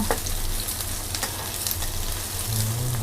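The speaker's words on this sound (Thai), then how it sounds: "เห็ดหอมลงไปผัดเลยค่ะ" Shiitake mushrooms stir-frying with fried tofu in a pan for a vegetarian basil stir-fry, a steady, close crackling sizzle with soft scraping from stirring throughout.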